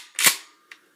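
A pump-action shotgun being racked indoors: a sharp, loud metallic clack followed about half a second later by a second, lighter click, close by with no talking.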